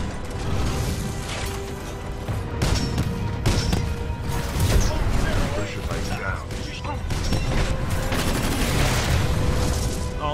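Salvo core missile barrage from a titan in Titanfall 2, a dense, loud roar of rapid launches and explosions with clanking mechanisms, continuous throughout, with a voice talking over it.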